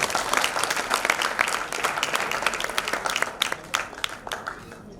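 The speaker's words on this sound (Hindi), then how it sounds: "आप एक बार जोरदार तालियां बजाएं।" Loud audience applause fills a Hindi poetry reading hall, dense continuous clapping from a large crowd that stays steady throughout with slight swells.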